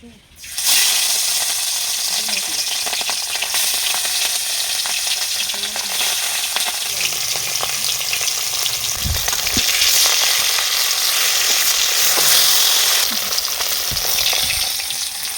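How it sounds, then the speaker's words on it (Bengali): Rui fish pieces coated in spices sizzling and frying in hot oil in a pan, a loud, continuous crackling hiss heard up close throughout, with occasional stirring or shifting sounds and no speech. "ভালোভাবে তেল গরম করে নিয়েছি। এবার মাছটা ভেজে নেব।"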